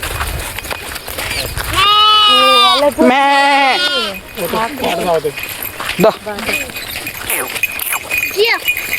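A young lamb bleats loudly nearby in a few wavering cries, with people chatting around it and faint jingling now and then.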